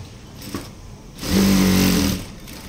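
An electric sewing machine runs a double stitch along a lined blouse seam: after a short quiet stretch with light handling noise, the motor buzzes loudly and steadily for under a second, then stops, heard close up.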